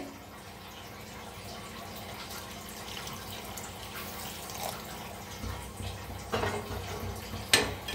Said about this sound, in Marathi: आता ह्याच्यात ओतायचं थोडंसं पाणी